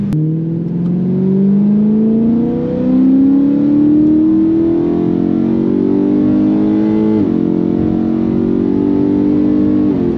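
A BMW M3 E92 with its naturally aspirated V8 revs loudly and continuously, the engine note climbing steadily in pitch as it pulls hard, then dipping briefly at a gear change before holding high again.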